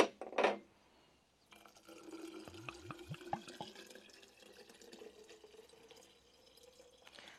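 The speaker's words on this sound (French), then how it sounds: "je rajoute mon vinaigrier et de l'eau froide" Liquid is poured into a container: a short splash first, then after a pause a gentle trickle of sumac vinegar and cold water that settles into a soft, steady pour, quiet and close.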